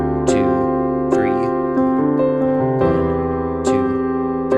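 Worship-style piano chords played in a rhythmic pattern over a five-note progression, struck in a few accented attacks that ring and sustain close and clear, with no voices.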